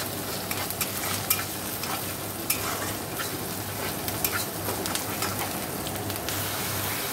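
Onion browning in a pan with ginger and garlic, making a continuous crackling sizzle dotted with small spatters and occasional scraping stirs, close and moderately quiet.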